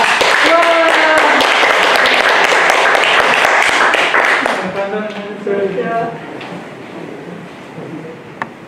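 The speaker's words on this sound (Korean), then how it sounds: "강사님을 큰 박수로 모시겠습니다" A crowd claps loudly and continuously, then the applause fades as a voice begins speaking.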